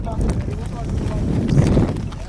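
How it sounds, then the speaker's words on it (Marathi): Strong wind rumbles and buffets against the microphone in heavy, continuous gusts while trekking at Dandoba, drowning out other sounds. "वाऱ्याचा अंदाज आहे याच्यावर किती जोरात चालू आहे"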